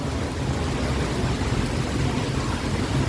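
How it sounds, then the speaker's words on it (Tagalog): Steady rain falls outside a shopping mall, a dense, even wash of hiss and patter that holds at a constant level throughout, with no talk. "Yan, umuulan naman."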